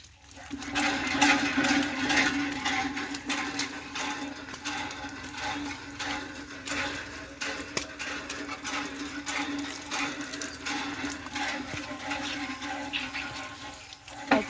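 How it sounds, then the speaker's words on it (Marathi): Water gushing steadily from a borewell pipe beside a temple, where worshippers wash their feet before entering; a continuous splashing rush that stays loud and close throughout, with no talking. "इथं ही अशी बोरिंग आहे पाय धुण्यासाठी"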